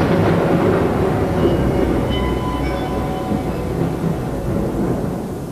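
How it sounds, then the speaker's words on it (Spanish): Thunder from a supercell storm rolls as a loud, sustained low rumble, a continuous deep roar with no voices over it. "El trueno es el estruendo sónico que se produce cuando el aire explota en el canal"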